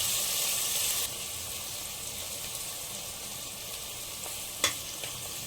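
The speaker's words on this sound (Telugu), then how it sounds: "ఆనియన్స్ బాగా కవగొచ్చేంత వరకు ఫ్రై చేసుకోవాలి" Onions sizzle in a pan while dal khichdi is being made, a soft, even frying hiss, louder for the first second, with one sharp clink of a utensil near the end.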